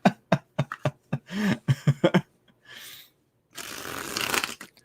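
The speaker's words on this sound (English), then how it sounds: "I'm gonna stop shuffling now" Tarot cards shuffled by hand in a series of quick crisp riffles and taps, followed by a longer soft rustling burst, close and fairly quiet.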